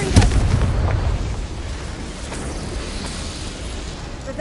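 The Confringo spell in Hogwarts Legacy bursts with a deep, booming explosion at the start, then fades into a rumbling, crackling tail that gradually settles into background game ambience.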